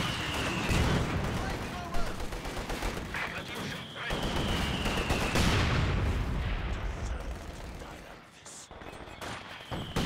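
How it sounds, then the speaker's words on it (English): Airburst artillery shells bursting over a Company of Heroes 2 battlefield, with dense overlapping blasts and gunfire crackle rumbling continuously through the stretch, a whining tone drifting across, and a voice talking over the combat. "Airburst shells."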